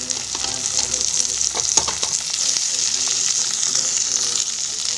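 Chopped tomato, ginger paste and fried garlic sizzle steadily in hot oil in a pan. The frying hiss stays loud and constant, stirring scrapes and clinks come through now and then, and faint background voices murmur underneath.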